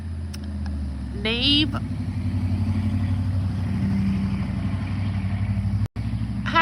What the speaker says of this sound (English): Here comes a loud truck down the road.